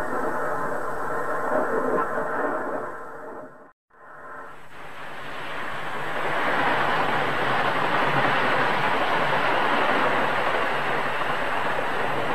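Steady rumble and rushing noise of a train running smoothly along rails, continuous and moderately loud apart from a brief drop near the middle, with no one talking.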